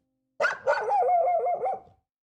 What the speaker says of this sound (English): among the barking of dogs